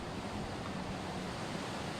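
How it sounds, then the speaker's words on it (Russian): Strong evening wind rushes past a balcony as a faint, steady hiss of gusting air with no other sounds. "Ветер вообще фигачит просто"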